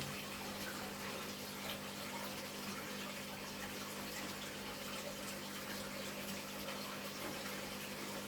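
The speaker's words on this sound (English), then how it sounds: "Running water is incredibly soothing." Running water trickling steadily in a small garden water feature, a faint continuous flow with a low pump hum beneath it, quiet and unbroken throughout with no voices.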